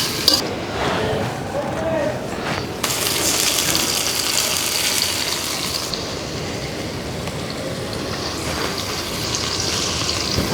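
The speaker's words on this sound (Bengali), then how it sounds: "মাছের আগে অনেকবার সুন্দর করে লবণ দিয়ে ধুয়ে নেওয়া হয়েছে, এখন আরও একবার ধুয়ে নেওয়া হচ্ছে" Large katla fish pieces, already washed with salt, are rinsed again in water in a village kitchen, with steady splashing and sloshing, occasional clinks of a vessel, and a gushing pour partway through.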